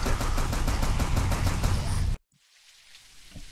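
Rapid gunfire rings out while a zombie is shot in the indie video game Empty Vessel, a loud dense burst lasting about two seconds before cutting off abruptly into quiet.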